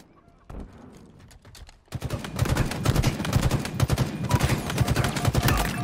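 Sniper rifle fire in a Halo match comes as a dense run of sharp, rapid shots and clattering gunfire that builds after a quieter opening, loud and close, with faint voices beneath.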